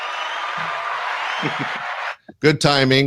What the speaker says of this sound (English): You get a little applause.